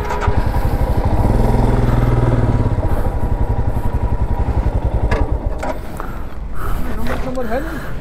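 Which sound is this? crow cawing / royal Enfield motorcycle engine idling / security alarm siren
royal Enfield motorcycle engine idling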